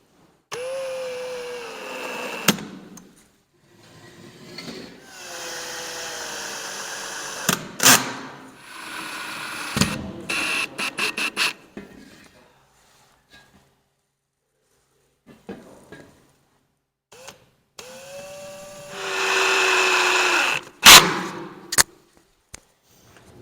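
Power drill driving in bursts while tilt and pivot brackets are installed, several short whirring runs of a few seconds each separated by pauses and clicks, close and fairly loud.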